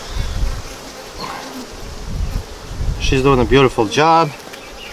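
Honeybees hum steadily at close range while a beehive is opened for inspection, a low continuous droning swarm that runs throughout, with a person talking briefly over it near the end.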